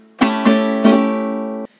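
Three bright strums in a floreo strumming rhythm, played with the index finger in down and up strokes: an accented stroke, then two quick strokes, ringing together before being cut off sharply. The strums are close and clear, with no talking.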